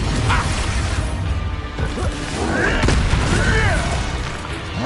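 Expulso spell blasts in Hogwarts Legacy on PlayStation 5, a dense, roaring burst of crashing impact noise that swells and holds loud for several seconds, with no clear separate hits.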